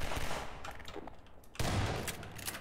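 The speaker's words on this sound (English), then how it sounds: "Shotgun to the head kills zombies." Shotgun blasts in Half-Life 2, a loud booming shot cutting through dense, noisy game ambience, followed by a heavy rumbling tail.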